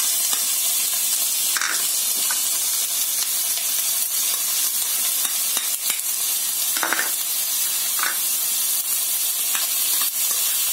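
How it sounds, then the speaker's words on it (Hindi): Capsicum and other vegetables sauté in hot oil, making a steady, loud sizzle and hiss with occasional brief stirring scrapes and no talk. "अब इसमें हम कैप्सिकम को डालते हैं। सारी सब्जियों को डाल के हमें भून लेना है।"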